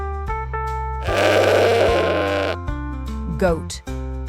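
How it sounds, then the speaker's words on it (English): A goat gives one drawn-out, wavering bleat lasting over a second, followed by a shorter higher call, set against continuous background music. "Goat."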